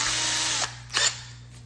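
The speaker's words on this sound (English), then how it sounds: "I'm going to attach it to my drill here, just to speed things up with the extender" A cordless drill fitted with a T25 Torx bit on an extender whirs steadily up close, dips briefly, then revs again in a short burst while working on the engine air filter housing of a 2013 Mercedes-Benz C250.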